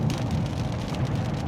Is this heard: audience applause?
no